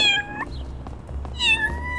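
A pair of high, close cat meows from the game Little Kitty Big City, one opening and one near the end, a quiet gap of game ambience between them.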